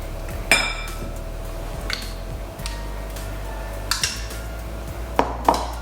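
Whole grain mustard being mixed into stew dumpling dough in a bowl, with a few sharp clinks of a utensil against the bowl over a soft, steady background hum.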